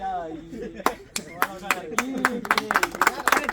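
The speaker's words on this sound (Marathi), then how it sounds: "टाळ्या टाळ्या" Several hands clap in bursts of sharp, close claps that quicken toward the end, mixed with a voice speaking and singing over them.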